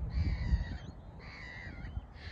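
A seagull calls near a muddy spot, giving two drawn-out harsh cries with a short gap between them, moderately close over low background rumble, with no talking.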